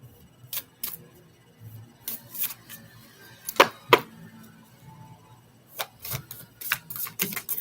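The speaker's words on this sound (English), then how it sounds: "Just shuffling right now." Tarot cards being shuffled by hand make a series of quiet papery riffles and taps, coming in short irregular bursts with brief pauses between them, close and alone with no talking.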